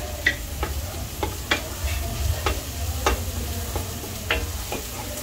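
Beefsteak frying in a pan with browned garlic and onion, a soft steady sizzle under repeated light scrapes and taps of a utensil against the pan, close and without talk.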